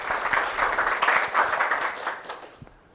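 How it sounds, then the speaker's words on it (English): Live audience at an IATP 2024 attractions industry event breaks into a round of applause, dense clapping that is steady for a couple of seconds and then thins and fades. "Round of applause"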